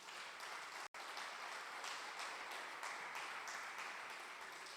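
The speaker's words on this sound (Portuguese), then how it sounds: "Você pode dar um aplauso a Jesus aí?" A church congregation applauds continuously during a worship service, a dense wash of clapping from many hands that holds steady after a brief gap near the start.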